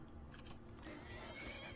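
Horse in the Skyrim video game giving a faint whinny over a background of low game noise, with no talk.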